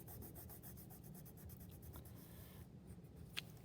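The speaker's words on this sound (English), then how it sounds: "I'm going to color my red colored pencil along the edge, and I am going to make that the darkest part." A red colored pencil rubs on paper in quick, close scratchy strokes, shading dark along an edge, with a brief tap near the end and no talking.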